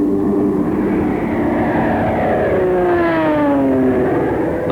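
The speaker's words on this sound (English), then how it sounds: "the carrier planes continued to press the attack" Piston engines of US Navy carrier planes attacking Formosa roar loudly and steadily in flight, with a passing aircraft's engine pitch sliding downward as it goes by.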